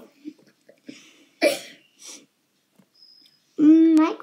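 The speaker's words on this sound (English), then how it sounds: "I just sneezed." A single person's sneeze bursts out suddenly, with short breathy sounds and brief vocal noises around it, heard up close in a quiet room during online game play.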